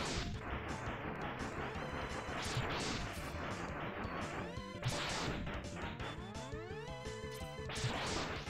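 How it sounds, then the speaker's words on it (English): Regular blaster shots in a Mega Man X boss fight, repeated sharp retro electronic shots and crashing impacts over busy chiptune game music, with rising laser sweeps in between. "Just the normal blaster shot. That's what I'm using."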